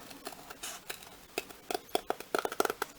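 Scissors snipping through a paper template for a doll backpack, a close, quiet run of small crisp clicks that grows quicker and denser toward the end.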